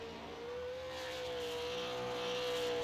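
A race car at The Thompson Super 50 comes around to complete a lap, a steady high engine drone with a sustained whining tone, building slightly louder over a few seconds as it approaches.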